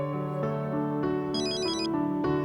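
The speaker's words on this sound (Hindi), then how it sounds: "आपका फोन।" A mobile phone rings with a bright, melodic electronic ringtone, a steady looping pattern of tones heard close and alone for the whole moment, with no talk over it.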